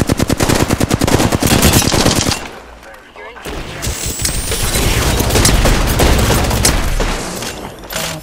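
Rapid bursts of automatic gunfire in Apex Legends rattle loudly, then pause briefly before sustained shooting and booms resume, dense and close throughout.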